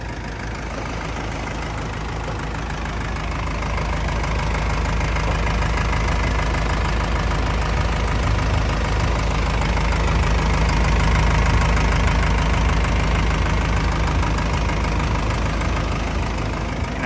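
A Komatsu WA100-5 wheel loader's heavy turbo diesel engine idles close by, a constant low rumble with rhythmic knocking that swells slightly and holds steady throughout.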